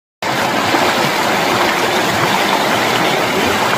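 Waterfall at a hillside beauty spot in tribal country, pouring steadily as a loud, continuous broadband rush of falling water that stays unbroken throughout, with no voices heard.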